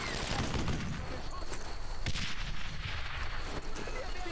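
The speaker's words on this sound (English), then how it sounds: "I'm throwing a grenade!" A grenade goes off amid dense World War II combat in Brothers in Arms: Earned in Blood, a heavy blast buried in continuous gunfire and loud battlefield noise.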